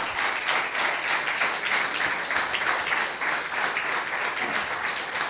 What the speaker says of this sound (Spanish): Dale un aplauso fuerte a ese Señor.